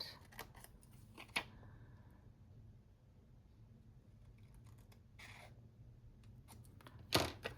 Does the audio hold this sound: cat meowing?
no